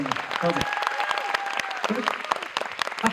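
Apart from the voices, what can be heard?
audience applause at a mini concert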